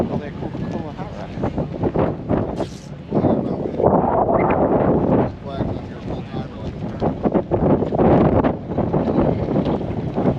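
Strong wind buffets the microphone at the Chicagoland drag racing track during the Hot Rod Power Tour, rough gusting rumbles rising and falling under ongoing talk.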